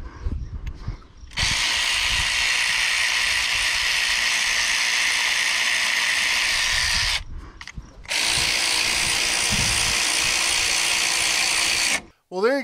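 A Skil PWRCore 12 cordless brushless ratchet runs in loud, steady bursts of whirring drive, one about six seconds long, a short break, then another, ending abruptly.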